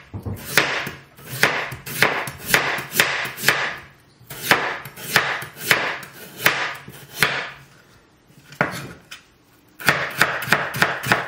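Peeled potatoes chopped with a knife on a board for potato pakoras, sharp rapid knocking strokes in quick bursts separated by short pauses, close and loud with no speech.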